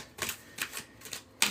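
Several soft, crisp bursts of oracle cards being shuffled, spaced irregularly and fairly quiet, with a sharper snap at the end.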